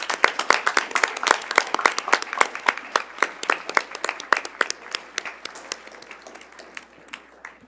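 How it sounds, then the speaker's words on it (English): Applause from an audience at a school board meeting after a student performance: sparse, distinct claps from a modest crowd, quick and irregular, gradually thinning out toward the end. "Let's give them another round of applause."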